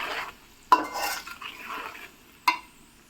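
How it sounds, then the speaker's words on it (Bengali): Garlic cloves are stirred with spices for a garlic pickle, with two sharp spoon knocks against the bowl and soft scraping, mixing sounds in between, close and otherwise quiet. "সবগুলো মশলা দিয়ে এবার রসুনগুলোকে ভালোভাবে মিশিয়ে নেব"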